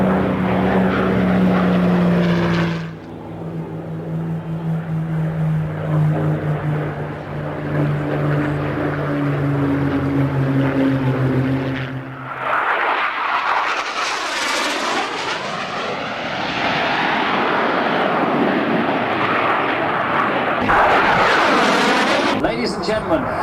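Propeller aircraft roaring at full throttle during an airshow display alongside a Spitfire, a loud sustained engine drone with shifting pitch as it passes, then a rising whine after a brief dip, with announcer talk heard over it.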